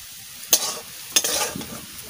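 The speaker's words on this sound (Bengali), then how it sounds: "আমি এরকম লাল লাল করে ভেজে নিচ্ছি," Fish frying in mustard oil gives a soft background sizzle broken by two sharp scraping strokes of a spatula against the pan, close and fairly quiet.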